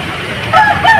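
Fighting cocks kept in a town plaza, one rooster letting out a loud, close crowing call in two quick bursts over a faint background hum.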